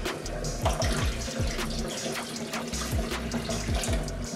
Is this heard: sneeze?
no